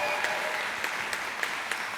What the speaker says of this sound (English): Can we give everybody a round of applause here on stage?